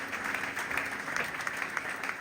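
A church congregation claps together during a Sunday service, a steady, dense wash of many hands applauding at moderate distance with no voices standing out.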